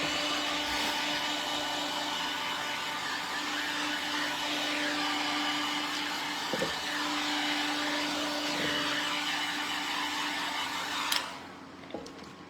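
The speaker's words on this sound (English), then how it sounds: "I'm gonna go ahead and add some more heat to this to melt in all that texture and layering we're doing" Heat gun blowing hot air to melt paint texture on thrifted wooden furniture, a continuous whirring, hissing drone held steady and close for most of the time before cutting off near the end.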